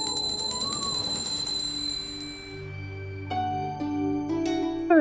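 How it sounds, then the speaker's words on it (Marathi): A ritual bell rung during a morning puja at home, giving a series of bright, ringing metallic strikes that grow louder and come in quick clusters toward the end, with no talk over them. "अरे यार, का सकाळी घंटी वाजून डिस्टर्ब करताय?"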